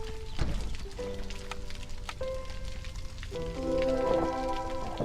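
Video game storm rain patters faintly and steadily, overlaid by tonal game music notes and chimes, with occasional soft clicks and no speech.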